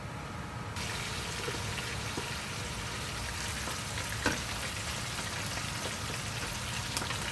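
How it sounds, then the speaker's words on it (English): Galunggong fish frying in a pot of oil, a dense, even crackling sizzle that runs throughout with a few faint clicks and pops, close and steady, with no voices. "So I have this pot with oil in it, and I'm gonna fry the rest."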